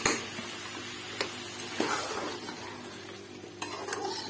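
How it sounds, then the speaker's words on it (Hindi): Mutton korma stirred in a pot, a soft continuous sizzle with occasional spoon scrapes and clicks against the metal, close but fairly quiet, no talking. "इसको हम मिक्स करके इसमें ऐड कर देते हैं इस तरीके से।"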